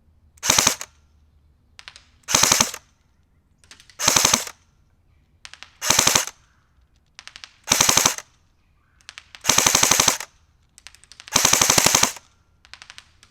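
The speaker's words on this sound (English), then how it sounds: "We'll go full auto, send a burst out there." A stock airsoft gun fires seven short full-auto bursts outdoors, each a loud rapid rattle separated by pauses of about a second or more.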